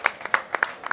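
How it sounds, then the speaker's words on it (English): Brief, sparse hand claps for Uganda's victorious cross country athletics team, a handful of separate claps in about a second, fairly close. "Give them a hand clap."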